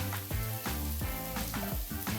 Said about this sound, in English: You can already hear the crackling, the sizzling